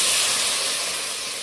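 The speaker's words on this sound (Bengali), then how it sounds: "একটা সসপ্যানে আমি কিছুটা পরিমাণ জল গরম করে রেখেছিলাম, জলটা অ্যাড করে দিচ্ছি।" Hot water poured into a pan of potatoes fried with spices for a vetki fish and potato curry, giving a steady loud sizzling hiss that fades slightly over the short moment.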